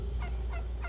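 Wild turkey gobbles three times in quick succession, each burst a short warbling rattle, fairly close and clear against a steady low background hum.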